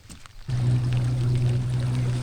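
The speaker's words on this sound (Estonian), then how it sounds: "Oleme nüüd korra vee peal jälle suure vihmaga" Steady heavy rain drumming around a small fishing boat out on the water, a dense continuous hiss with a low hum underneath, starting abruptly after a brief quieter moment and holding steady.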